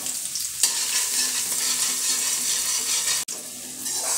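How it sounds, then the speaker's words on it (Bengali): Chopped garlic and ginger fry in hot oil and ghee with a strong, continuous close-up sizzle, a stir scraping in early and a brief break near the end. "তেলের মধ্যে রসুন কুচি আর আদা কুচি দিয়ে এগুলো আমি ভেজে নেব"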